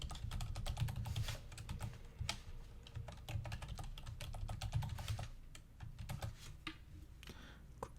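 Computer keyboard typing at close range: a quick, irregular run of crisp key clicks over about eight seconds as a username and password are entered, with no speech.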